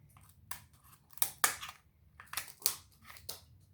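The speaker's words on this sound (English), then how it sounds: "I take my scissors and I just cut it down." Scissors snip through a seafood shell at a seafood boil, about six or seven crisp, crunching cuts at an uneven pace, close and fairly quiet with no talking.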